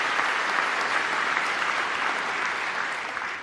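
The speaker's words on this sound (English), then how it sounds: "Democrats clapping" Sustained applause from lawmakers fills the chamber of the US Congress during a 2025 presidential address, a dense, even wash of clapping lasting throughout without speech.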